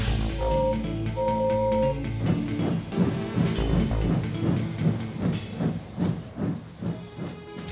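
A steam locomotive chuffing in a steady, quickening rhythm of puffs with hissing steam, building up from a low rumble.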